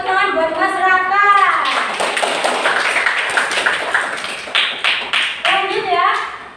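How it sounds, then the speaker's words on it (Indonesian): Schoolchildren in a classroom clap for a classmate, a short burst of group clapping framed by voices speaking before and after, with a few scattered claps trailing off. "Oke, beri tepuk tangan buat Mas Raka."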